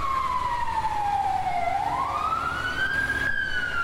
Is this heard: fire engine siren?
yes